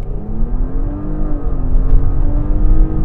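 A 2019 Porsche Cayenne E-Hybrid, its 3-litre 340-horsepower V6 petrol engine, roars through a launch-control start. The note is loud and close, climbing steadily in pitch with no one talking over it.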